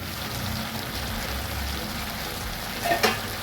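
Drumstick and shrimp curry sizzles steadily in a pan while being stirred, a continuous low frying hiss with a brief louder scrape near the end.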